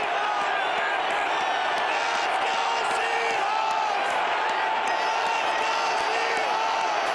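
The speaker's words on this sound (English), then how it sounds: "That crowd noise is so good for that defense because they're built for speed." Loud home crowd roaring throughout a Seahawks NFL playoff game against the defending champion Saints, a dense, steady wall of cheering and shouting with scattered whoops and claps.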